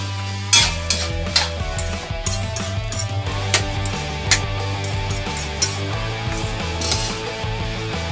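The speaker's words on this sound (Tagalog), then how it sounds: "Haluin lang natin. Igisa natin mabuti." Red onion sautéing in a pan while being stirred, for creamy mushroom chicken: a soft sizzle with scattered utensil scrapes and taps, over a steady low tonal background.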